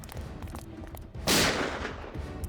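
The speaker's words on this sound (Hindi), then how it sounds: "सर गोली इसी तरफ से चली।" A single sharp gunshot bursts out in a tense crime-drama scene, loud and sudden midway through, then decays into a brief echoing tail over a low ambient room tone.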